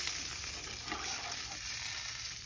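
Spices frying in a pan for a paneer curry as water is poured in, giving a steady, close, loud sizzle that hisses evenly throughout with no voices.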